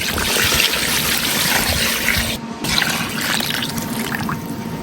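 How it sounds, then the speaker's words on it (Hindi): Water poured into a pot of beef trotters for cooking: a steady, close splashing pour that runs almost without a break, dipping briefly midway. "अब हम इसके अंदर पानी ऐड करते हैं।"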